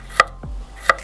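A knife chops garlic cloves on a board with two sharp, separate strikes close by, plus a low thud between them, with no voices.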